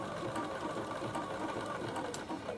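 A Bernina sewing machine stitches fabric for a vegetable or produce carry bag, a steady close whirring run of rapid needle strokes at moderate loudness with no talking.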